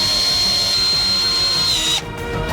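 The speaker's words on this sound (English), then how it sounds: "Additionally, we fix them with screws." A power drill drives screws into a mold for a giant Kinder Bueno, a loud steady high-pitched whine that stops abruptly about two seconds in and leaves a brief rattle.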